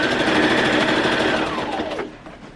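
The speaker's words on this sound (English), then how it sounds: "stitch this dart in place, back stitch, continue sewing your dart." Sewing machine stitching a dart in a red zip-front jumpsuit, a fast steady whirring stitch run close up that slows and stops near the end, with no voices.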